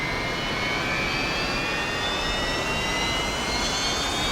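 A Saab SK-60B jet engine in the DCS flight simulator spools up toward idle with a steady, loud broadband roar and thin whining tones that slowly rise in pitch, with no one talking.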